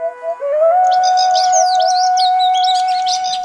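Black-winged stilt calling: a steady, piercing, high nasal note held for several seconds, with quick, sharp chirping notes layered above it, loud and close in a quiet setting.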